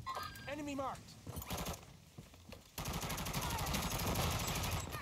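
Gunfire crackles in a Warzone battle royale match, with rapid bursts and clustered shots from a gun battle and voices talking over the action.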